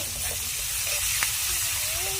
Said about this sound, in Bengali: সেটাতে আমি গরম মশলা ফোড়ন দিয়ে দিচ্ছি, গোটা গরম মশলা